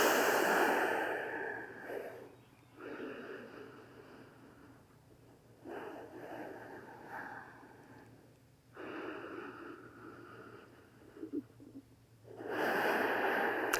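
Slow, deep breathing in yoga child's pose, with long audible inhales and exhales rising and falling in a calm rhythm, close to the microphone and without speech.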